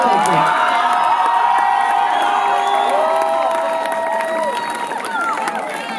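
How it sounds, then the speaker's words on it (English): A crowd claps, cheers and whoops for a performer named Booker after an electronic saxophone performance, loud and lively, with excited shouting voices layered over the clapping. "Let's give Booker one more round of applause because that was so great."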